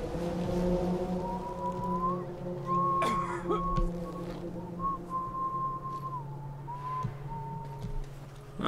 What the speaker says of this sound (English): Ah, they're whistling out of tune.